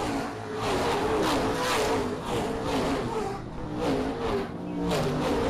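Race cars battle wheel-to-wheel on the oval at Springport Motor Speedway, engines roaring loud and steady as the pack sweeps past, with a commentator talking over the constant din.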